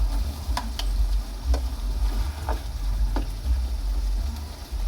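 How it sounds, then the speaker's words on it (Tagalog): Fried potatoes and carrots go into a pan of chicken afritada, which sizzles steadily up close, with scattered clinks and scrapes of stirring on top. "Ngayon, ilalagay na natin yung ating piniritong patatas at saka carrots."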